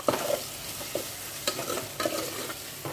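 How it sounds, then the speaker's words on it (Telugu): Chopped tomatoes frying in a pan for a methi chicken curry, brief sizzling with several quick stirring scrapes of a spoon, close and moderately loud, no talk. "ఇప్పుడు కోసి పెట్టుకున్న టమాటా ముక్కల్ని కూడా వేసుకుంటున్నాను"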